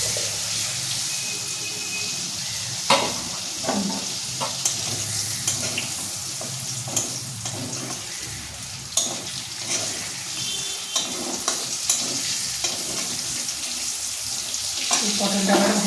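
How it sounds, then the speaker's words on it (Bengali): Pointed gourd and potato pieces frying in a pan, with a steady sizzle and repeated scrapes and clinks of stirring, plus occasional tap water running in the background throughout. "পটলটা ভাজা হয়ে গেছে"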